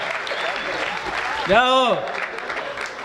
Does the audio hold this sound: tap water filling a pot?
no